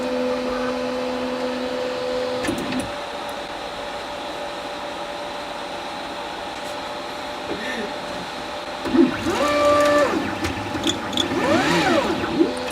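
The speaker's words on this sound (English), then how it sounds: "It's crazy how extremely fast the lead screws have made the 3D printer." Robo 3D R1 3D printer with an upgraded leadscrew, running fast: a steady motor whine and hum, then warbling stepper-motor tones that rise and fall in quick sweeps near the end.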